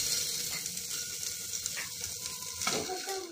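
Carrots fry in a hot pan for dalia khichdi, giving a steady bright sizzle throughout with a few soft scrapes of stirring near the end; no voices.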